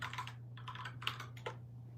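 Several quick bursts of typing on a computer keyboard, clustered key clicks separated by short pauses, close by over a steady electrical hum, with no talking.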